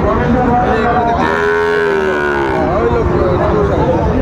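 A loud, long, close moo from a cow rises and falls over a din of other livestock and background noise at a Sahiwal bull cattle market in Cumilla, with no clear talking.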